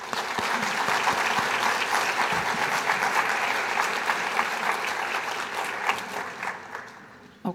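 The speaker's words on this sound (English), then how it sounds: "please join me in giving them both a round of applause" Luncheon audience applauding, a dense, sustained clapping from a room full of people that holds steady and then fades out toward the end.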